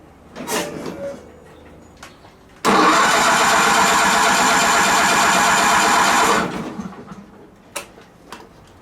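A John Deere 318 lawn tractor's starter cranks the engine in one sustained loud burst of about four seconds, a rapid whirring churn that fails to catch, set between quieter clicks and handling noises.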